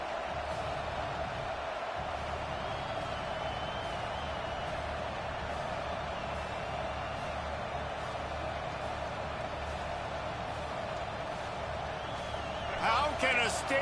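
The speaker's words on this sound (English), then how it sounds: "How can a stadium this size make so much noise? You can't hear yourself think on third down here in Autzen." Home crowd at Autzen Stadium during an Oregon football game against Michigan, a constant dense roar that holds steady and loud throughout, with a brief burst of sharper noise near the end.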